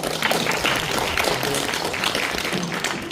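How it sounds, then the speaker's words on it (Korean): Audience at a rural-regeneration forum in Hongseong county applauds a keynote speaker, a dense, steady wash of clapping from many hands filling the room without pause. "큰 박수 부탁드리겠습니다."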